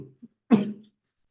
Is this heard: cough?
yes